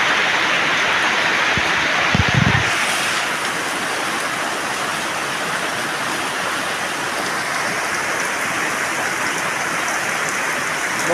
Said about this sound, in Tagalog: Patuloy pa rin po ang mga pag-ulan.